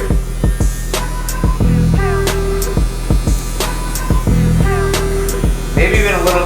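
Sterling 4 hair clippers buzz with a steady close-up electric hum while cutting a low bald fade, punctuated by irregular clicks and taps.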